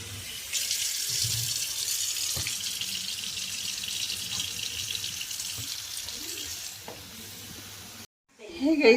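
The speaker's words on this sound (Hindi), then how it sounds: "तो तेल जब तक गर्म हो रहा है तब तक मैं सोयाबीन को 2-4 पानी अच्छे से धो ले रही हूँ।" Soybeans being washed in water in a home kitchen, with steady running tap water and splashing while swishing by hand, continuous for several seconds before a brief pause and clatter at the end.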